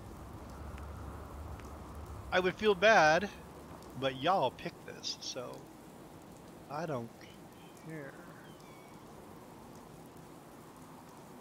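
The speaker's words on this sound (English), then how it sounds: "I can't get it to stop raining, so we're just gonna have to suffer through the rain." Steady rain falling in the Fallout 4 video game at the Warwick Homestead, a continuous soft hiss of drops on surfaces running under someone talking intermittently.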